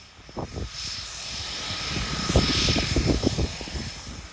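An aircraft engine running on the runway at the Isle of Barra airport, a loud continuous propeller drone with a whining hum and gusty low rumbles.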